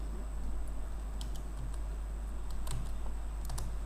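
Computer keyboard typing CSS code, a steady stream of quick light key clicks over a constant background hum, close and fairly quiet.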